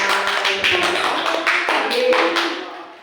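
A group of sixth-grade schoolchildren claps together in a dense, steady burst of applause that fades slightly toward the end.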